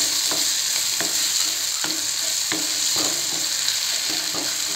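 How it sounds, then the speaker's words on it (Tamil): Tomatoes sizzle with salt in a frying pan while a spatula stirs them, scraping at an irregular beat over a steady hiss. It is close and moderately loud, with no talking. "கொஞ்சம் நல்லா வதக்கிக்கலாம்."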